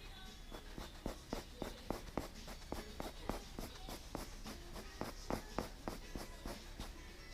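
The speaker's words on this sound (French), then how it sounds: "j'appuie un petit peu plus sur la pointe de mon crayon" A pencil shades hair on paper with firm pressure, scratching out quick, rhythmic strokes that come close and clear, about three each second.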